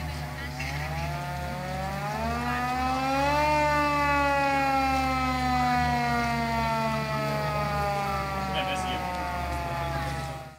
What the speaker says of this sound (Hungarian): Kérem a sziréna megmorgatását.